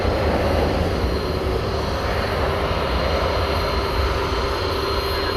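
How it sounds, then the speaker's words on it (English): A UPS cargo jet takes off at night from DFW Airport, a loud, dense, continuous jet-engine roar with a strong low rumble and no pauses. "looks like we're gonna get twin UPS cargo takeoffs"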